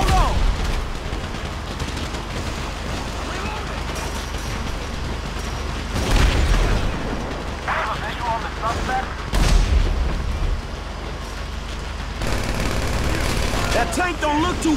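A tank fires during GTA 5 gameplay: heavy booming blasts rise over a constant loud rumble of gunfire and action, with voices talking in between.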